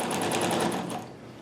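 A Dressmaker 2402 sewing machine stitches in a rapid, even mechanical whir with a steady pulsing rhythm, running close and fairly loud before easing slightly toward the end.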